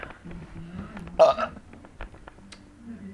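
A person burps once, loud and close, amid faint rustling and quiet breathing.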